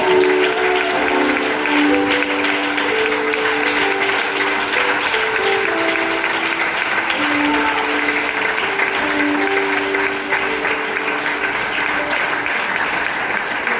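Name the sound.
church congregation applauding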